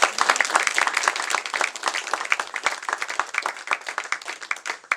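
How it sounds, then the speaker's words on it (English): Audience applause at an open mic event, dense and steady clapping from a small crowd filling the whole stretch, fairly close and without talk. "let's give Grace another hand"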